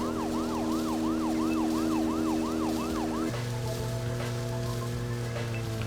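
A car siren in the video game Deadly Premonition wails in a fast rising-and-falling yelp over a steady engine hum, then cuts to a flat tonal drone as the siren stops; loud and continuous, no talking.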